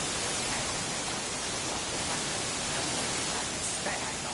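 Roaring waterfall from Black Myth: Wukong, heard as a thick, unchanging wash of rushing water noise that stays loud and even throughout, masking any other detail.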